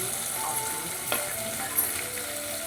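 Red chutney with turmeric, salt and spices sizzles steadily in a hot pan, with a soft hiss throughout and a couple of faint scraping stirs, close and fairly quiet.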